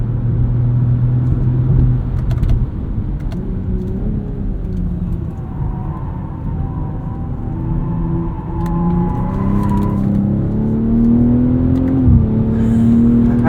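Steady engine note from a 2023 BMW M340i xDrive's 3-liter inline-six on the road in sport mode, a loud continuous drone with rising and falling pitch through gear changes, heard close up from inside the car without talk.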